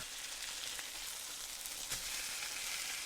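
Onions fry in hot oil in a pan over a rocket stove on a terrace, giving a steady close crackling sizzle throughout with a brief louder pop near the end.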